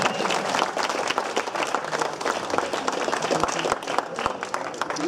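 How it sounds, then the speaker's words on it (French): Outdoor crowd at a cycling prize ceremony applauding young-rider leader Amy Pieters, brisk continuous clapping from many people with a few sharper nearby claps, loud and close. "on applaudit bien fort Amy Pieters"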